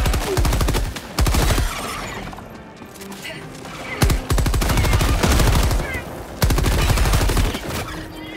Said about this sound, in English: Didn't realize I was using my light machine gun there.